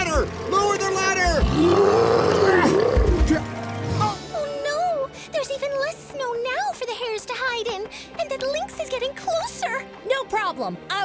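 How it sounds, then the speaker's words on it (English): An angry cartoon tiger lets out a long, loud roar with growling grunts over the first four seconds, followed by animated characters speaking quickly over a background music score. "I don't think it's us the tiger's mad at, Preston."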